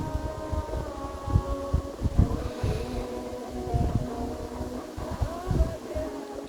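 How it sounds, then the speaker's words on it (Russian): Wind over Lake Seliger buffets the microphone in uneven gusts, rumbling low and steady, with a faint droning tone underneath. "Но ветер налетает."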